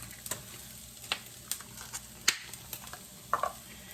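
Bacon, onion and shallot frying in a pan, a quiet sizzle broken by scattered stirring scrapes and small pops, with a brighter spatter near the end.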